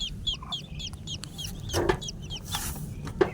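Chickens and their chicks in a crowded coop, close soft clucks mixed with a run of high repeated peeping from the young birds and a couple of sharper calls.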